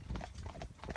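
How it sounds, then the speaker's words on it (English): A young Friesian horse's hooves clip-clop at a quick, even rhythm during training, close and distinct, with no talking. "So this is a young Friesian horse on the offside, and Bentley, my new horse, on the inside."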